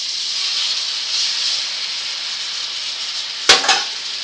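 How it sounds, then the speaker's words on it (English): Shrimp sizzle in a pan with butter and garlic, a steady bright hiss close up, with a sharp crackling burst near the end. "All right, so in with our shrimp. You hear that nice sizzle?"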